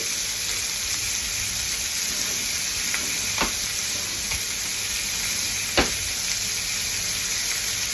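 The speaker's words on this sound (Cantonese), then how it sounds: "煎緊，煎香啲" Pork shank sizzles steadily in a hot pan, a close, even frying hiss broken by a few sharp pops and clicks, with no talking.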